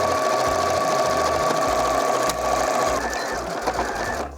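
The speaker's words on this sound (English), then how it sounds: "Back on the sewing machine, I'm going to sew starting from this pin right away around the bag" A sewing machine stitches around a colour-blocked tote bag, running steadily and loudly with a constant hum, briefly pausing and slowing near the end as stitching changes.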